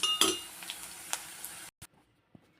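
Snake gourd poriyal scraped from a pan into a bowl, a few close metallic clinks and scrapes of a spoon on cookware, then near silence broken by two soft knocks.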